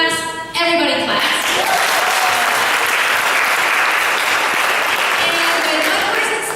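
A room full of people at a leadership academy session bursts into loud, dense clapping together after a brief voice at the start, the applause holding steady and close for several seconds without let-up.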